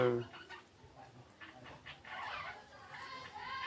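Backyard chickens, two roosters and two hens, cluck in short irregular bursts at moderate distance, with a faint background voice at times.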